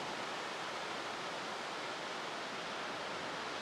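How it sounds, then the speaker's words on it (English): Ocean waves breaking along a beach, with bigger surf rolling in at the far end, heard as a steady, dense wash of surf noise without distinct individual crashes. "down at that end is bigger waves"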